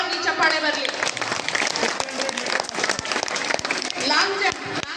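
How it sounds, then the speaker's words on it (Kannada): A crowd claps loudly for school children who won at a cluster-level sports meet. Dense applause rolls on throughout, mixed with voices talking over it. "ಜೋರಾಗಿ ಚಪ್ಪಾಳೆ ಬರಲಿ."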